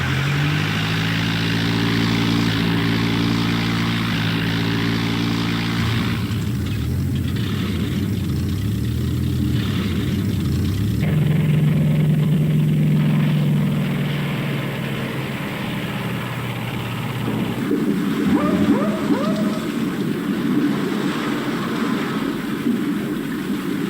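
Aircraft engine roaring loudly during an ill-fated takeoff from a Royal Navy carrier in Arctic waters, a steady drone with shifting pitch that swells and fades over the run, no talk.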